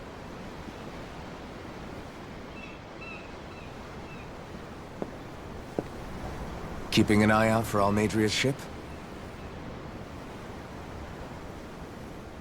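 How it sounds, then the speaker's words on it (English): Ocean waves wash in a steady, soft, broadband rush, heard from aboard a ship in the video game Tales of Arise, with a short line of spoken dialogue midway. "I'm looking at the ocean."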